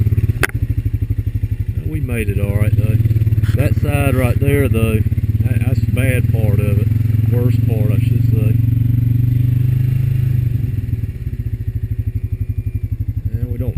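A Honda Rancher 420 automatic ATV grinding through mudholes, its engine droning steadily close by while someone talks over it for most of the run.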